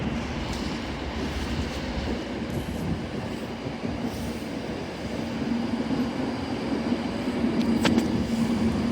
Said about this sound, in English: Departing now is your 1548 Avanti West Coast service from Glasgow Central to London Euston